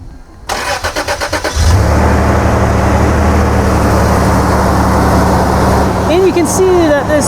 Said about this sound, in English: I disconnected a fuel injector and started up with the remote start